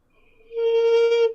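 An ancient Armenian wind instrument sounds a single held tone that swells in after a faint start, then sustains bright and reedy for under a second before breaking off, played alone and close.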